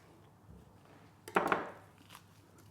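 A knife trims the side muscle off a beef short loin, with one brief, close, moist scraping and crunching cut in otherwise quiet surroundings.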